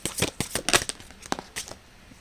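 A deck of tarot cards is shuffled by hand in crisp, rapid riffling bursts, close and fairly loud, with short pauses between flurries.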